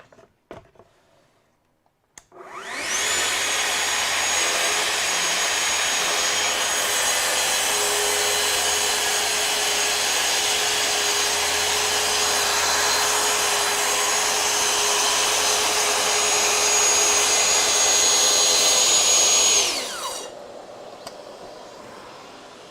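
A power saw makes a shallow 2 mm deep cut while a mobile machine stand is built, running as one loud, steady, close whine for roughly seventeen seconds before spinning down.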